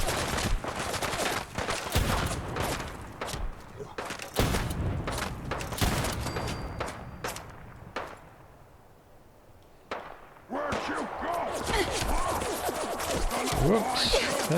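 Rapid bursts of super mutant minigun fire in the video game Fallout 4 at a salvage yard, loud and repeated, broken by a brief quiet gap before the shooting resumes alongside other gunfire.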